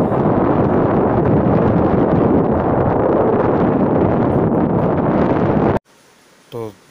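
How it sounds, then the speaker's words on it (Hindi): Strong, cold mountain wind at Rohtang Pass in the Himalayas of Himachal roars as a loud, steady rush for nearly six seconds, then cuts off abruptly, leaving near silence and one short low rumble. "यहाँ पर बहुत ज़्यादा तेज़ हवा सर्द हवा चलने लगी है"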